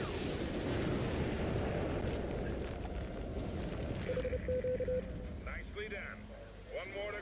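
A heavy rumbling explosion in the video game Prototype roars and slowly fades, followed by chirpy electronic game sounds and scattered effects.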